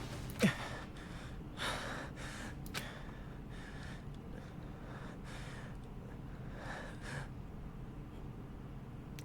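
Horrified, breathy panting and gasps from a character in the video game Danganronpa: Trigger Happy Havoc, a few sharp gasps early on followed by faint, steady breaths over a low background hum, with no talking.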